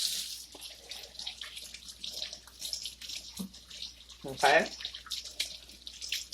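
Hands are washed under a running kitchen tap while guacamole is being prepared, a soft broadband splash of water that swells briefly and sits under a short spoken word.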